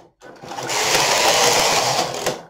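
The carriage of a Brother electronic knitting machine sweeps across one row, a loud, close mechanical whirring and rattling swell lasting about two seconds, starting and stopping abruptly.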